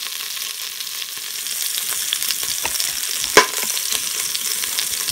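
A pork chop sears in an electric pressure cooker with a steady, close sizzle and crackle of frying, and one brief sharp tap partway through.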